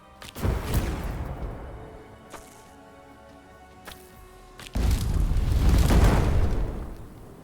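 A shard shatters in the video game Arcanium: a loud crashing boom with a short burst at the start, then a second, heavier blast rumbling for a couple of seconds, with no talk.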